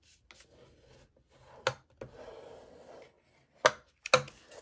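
Paper card stock being flipped, folded back and creased by hand for a corner fancy fold card, with soft rubbing and sliding strokes and a few sharp crisp snaps near the end, close and quiet, no talking.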